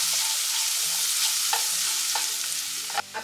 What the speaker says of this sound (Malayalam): ഇത് നന്നായിട്ടൊന്ന് വഴറ്റിയെടുക്കണം